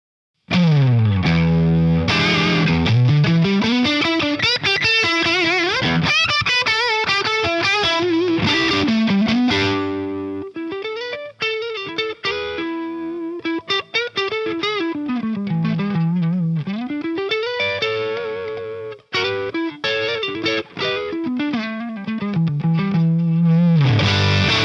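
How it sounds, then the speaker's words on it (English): Electric guitar driven through an Anarchy Audio FTK germanium overdrive, a germanium take on the Marshall Bluesbreaker, into a very loud amp, playing continuous gritty riffs and sliding melodic runs with thick sustained distortion throughout, no talking. "It's a germanium-based drive, kind of like a germanium take on the classic Marshall Bluesbreaker pedal."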